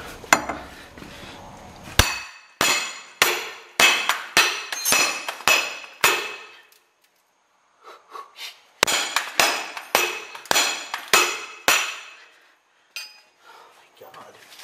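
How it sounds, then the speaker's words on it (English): A Honda Accord ball joint takes a series of sharp metallic strikes from a makeshift hammer, ringing blows in two bursts of about eight or nine with a pause between, close and loud. "I'm gonna grab a hammer. I don't have a hammer, but this shall do."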